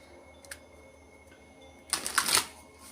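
A brief ruffling burst of cards being shuffled, a quick riffle of papery flicks after a faint tap, close and alone.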